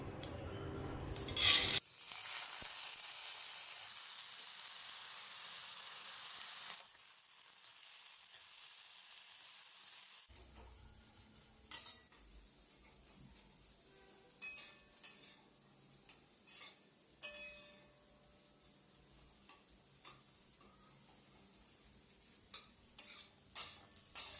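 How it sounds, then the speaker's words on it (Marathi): Rice grains roasting in a spoonful of ghee in a pan for kheer, with a loud hiss at first, then quieter sizzling and intermittent spoon scrapes and clinks against the pan as the grains are stirred. "त्यानंतर त्यांना आपण भाजून घेऊ तो एक चमचा आपण साजूक तूप वापरूया"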